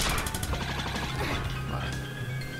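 Rapid gunshots crack and smash in the side-scrolling action game Gal Guardians: Demon Purge, a dense burst of sharp impacts layered with clanking hits and electronic game music.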